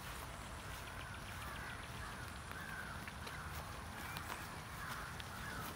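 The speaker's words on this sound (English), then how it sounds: "Dang, don't mind the crows in the background." Crows caw in the background beside a sustainable aquaculture pond during drought, faint repeated calls over a quiet outdoor hiss, with no talking.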